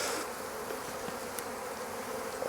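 Swarming honeybees buzz continuously over an opened hive under inspection, a thick, even hum close at hand with faint handling clicks and no speech.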